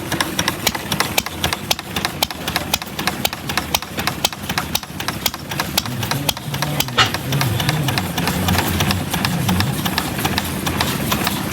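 Hit-and-miss four-stroke engine running, a rapid steady train of sharp knocking beats close up that shift into a lower chugging pulse, with someone speaking briefly.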